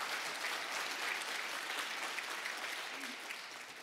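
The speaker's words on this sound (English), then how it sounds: "Let's get one more round of applause for our top 10 and our top reps," Steady applause from a conference audience honoring top 10 and top sales reps, dense and sustained, tapering slightly toward the end.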